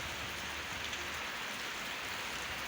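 Unseasonal rain falls steadily and evenly, a dense close patter on surfaces with no voices.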